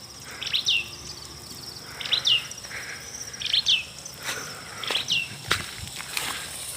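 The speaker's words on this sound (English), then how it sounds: "Sounds of the birds." Birds in a village give repeated bright chirps in short bursts about once a second, with a faint insect-like hiss running underneath throughout.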